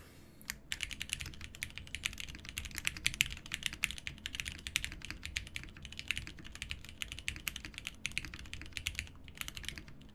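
Dense, fast clacking from a custom mechanical keyboard during a typing test, a steady stream of crisp keystrokes with brief pauses, heard close and alone with no voices.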